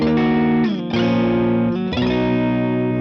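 Distorted electric guitar chords ring out through a Vox AC30 amplifier, three sustained strums with a thick, saturated tone and no voices.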